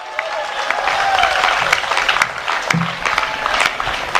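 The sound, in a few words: audience applause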